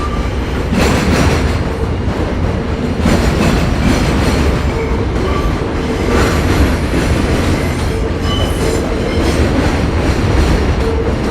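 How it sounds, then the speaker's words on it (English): A New York City subway train rolls along the rails with loud, continuous rumble and rhythmic clickety-clack of wheels over joints, punctuated by faint squeals, heard close from inside the car with no talking. "you can hear the clackety-clack of the subway"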